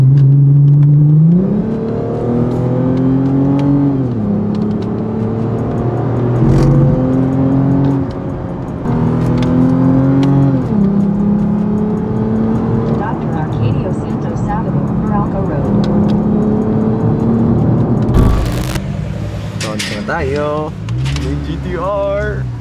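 A Nissan GT-R accelerates hard through repeated gear changes, its engine note climbing loudly and dropping between shifts, heard from inside with voices talking over it and a brief burst of noise near the end.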